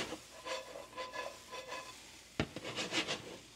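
Yuca being tossed in a HexClad pan: soft scraping and rustling with a faint sizzle underneath, then one sharper knock of the pan partway through, close-up, with no voices.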